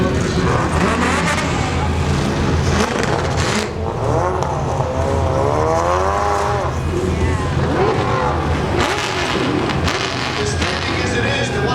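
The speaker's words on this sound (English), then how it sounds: "That little Miata's nasty sound in here." A Mazda Miata race car from the Optima Street Car Challenge revs hard at the SEMA roll-out cruise. The loud, raspy engine climbs and falls in pitch among other car noise, with people talking throughout.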